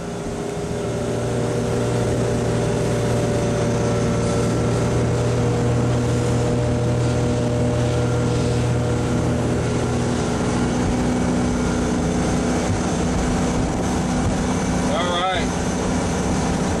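A 2006 Crownline 230 LS motorboat engine drones loud and steady throughout, with water rushing along the hull and a brief whistle near the end.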